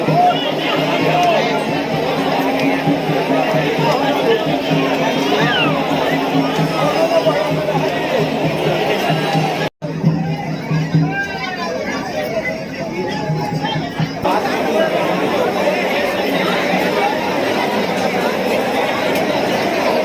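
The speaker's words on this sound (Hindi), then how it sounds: "बहुत ही ज़्यादा भीड़ है" A huge crowd of pilgrims fills Baba Baidyanath Dham temple on Janmashtami, producing dense, loud, close babble of many voices and shouts. The noise cuts out for a moment midway, then resumes at full strength.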